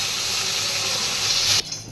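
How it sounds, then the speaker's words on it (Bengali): Eggplant slices frying in hot oil, a close, loud, steady hiss and sizzle that holds evenly before cutting off sharply near the end, with no voices. "এখন বেগুন ভাজা হচ্ছে"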